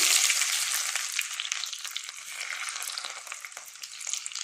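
Thinly sliced ginger dropped into hot oil with fenugreek, a loud bright sizzle that bursts at first and then settles into steady close crackling.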